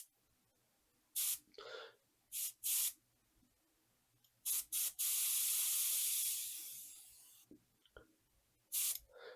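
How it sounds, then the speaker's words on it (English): Gallery GAD 39 airbrush spraying paint on an Airfix Halifax model kit, with short hissy bursts followed by a long sustained spray that tapers off, then another brief burst, close and alone. "let's start chucking some paint around with my trusty Gallery GAD 39"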